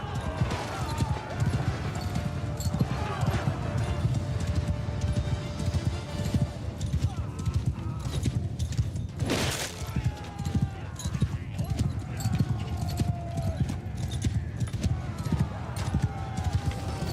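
Cavalry horse hooves clatter in a rhythmic clip-clop through a Warhammer Old Realms mod battle, mixed into dense game noise with a brief whooshing burst midway and speech over the top.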